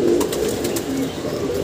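Domestic pigeons freed from their coop coo briefly and flutter nearby, a short close burst of soft calls and wing sounds.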